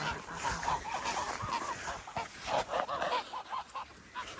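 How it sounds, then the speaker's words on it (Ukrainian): Several geese honk repeatedly at moderate distance, overlapping calls in an uneven rhythm with a little background rustle. "Гуси в цьому році дуже класні."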